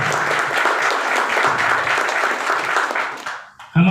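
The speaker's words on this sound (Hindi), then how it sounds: "जोरदार तालियां" Loud, dense applause from a large crowd at a company gathering honouring its MD and CEO, steady for several seconds before fading and giving way to a voice.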